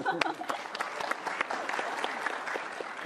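A short burst of applause from a small crowd, dense clapping holding steady for a few seconds with some faint voices mixed in.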